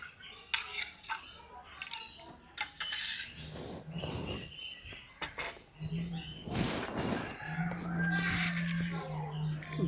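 Batter with salt and ground beetroot is stirred in a bowl, giving scraping, clinking utensil sounds and wet mixing, with speech and a steady low hum in the kitchen.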